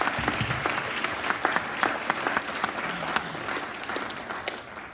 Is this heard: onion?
no